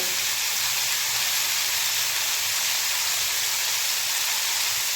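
Onions sizzle in a hot pan as mutton is being cooked, an unbroken, close hiss that stays loud and even throughout with no talking.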